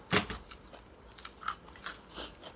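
Someone eating Thai khanom chin noodles with chicken curry, giving close crunchy bites and chewing in a few uneven bursts, loudest at the start and then softer, with no talking.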